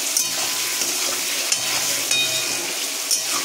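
Paneer pieces fry in hot oil with a steady, close sizzle that runs throughout, broken by a few faint clicks and scrapes; no voices.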